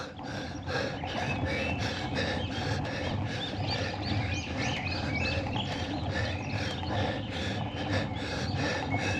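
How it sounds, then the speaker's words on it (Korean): Birds chirp and sing in repeated bright bursts beside a steep, tree-lined mountain road at Naejangsan, over a steady background rush throughout. "새소리 들리고요."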